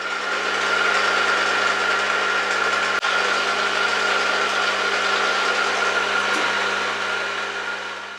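A drill bores a 2.5mm hole in metal with a steady, loud mechanical whine and hum for several seconds, with a couple of faint clicks partway through.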